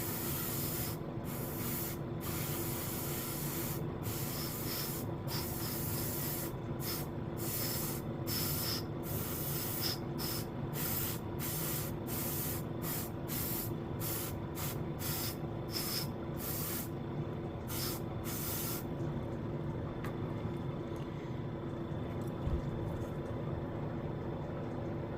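A Gundam model kit part, an HG Zeta Gundam III piece, is spray painted in a series of short and longer hissing spray bursts over a constant loud background hum, with no talking.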